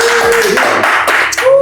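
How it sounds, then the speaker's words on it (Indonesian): People in a podcast studio clap for a short stretch, a close, quick patter of hands mixed with voices talking over it. "tepuk tangan dulu dong"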